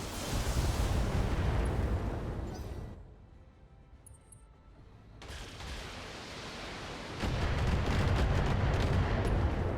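Heavy mech weapons unloading in the video game BattleTech, a dense roaring barrage of blasts and booms that drops briefly into a quieter rumble before surging back to full, continuous fire.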